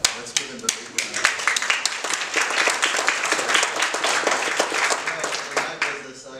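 Audience applause for a chairman at a branding talk, a dense burst of many hands clapping, loud and sustained for several seconds before thinning out, with some voices underneath.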